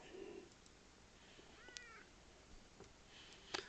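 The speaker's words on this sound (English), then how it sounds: "Just a little quiet meow." A cat gives a quiet, short meow, close but faint, followed by a few soft chirps, with a steady low background murmur.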